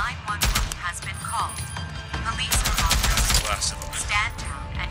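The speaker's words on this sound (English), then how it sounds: "Do you understand what an LMG sounds like?" A light machine gun fires in the video game Days Gone, loud sustained bursts of rapid automatic gunfire with sharp cracks and echoes, close and dominant throughout.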